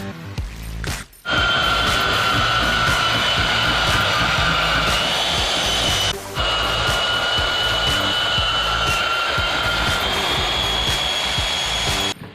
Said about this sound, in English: So as we were working, getting the shaft cut, we have that cut now.